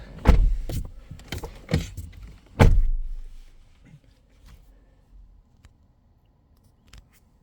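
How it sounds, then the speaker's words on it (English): A car door is shut during a diagnostic scanner setup with the ignition on. Several close, sharp thuds and clicks sound alone in a quiet space, and the heaviest slam lands partway through before fading to near silence. "Just shut the door."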